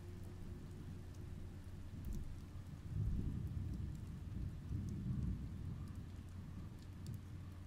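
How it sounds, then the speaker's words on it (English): Steady rain pours in the video game Oxenfree, a dense continuous hiss with low rumbling swells like distant thunder that build around the middle and hold, with no voices over it. "I'd imagine it'd be cold as shit where it's raining."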